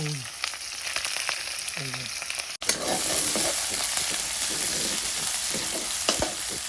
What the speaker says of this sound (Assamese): এই যে কেৰাহী জুইত বনাম আজি মাংস